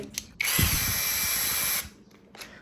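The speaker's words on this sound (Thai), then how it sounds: "เดี๋ยวจะมาลองเจาะกับดอกใบพายตัวนี้จะได้ดูความแรงของเครื่องด้วย" A MASARU drill with an interchangeable head bores with a spade bit, its motor whining loudly and steadily for just over a second, then spinning down to quiet.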